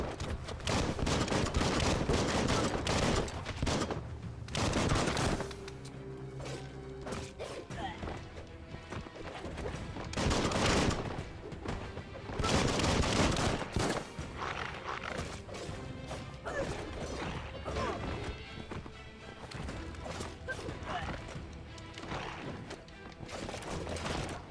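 Rapid bursts of gunfire in the video game Biomutant, loud, sharp cracks and crashes repeating in clusters over a dense background of game sound and voices.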